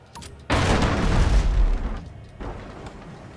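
A heavy grape-shot cannon volley from a sailing ship in the naval video game Abandon Ship erupts as a loud booming blast with a long rumbling tail, followed by a second, softer boom.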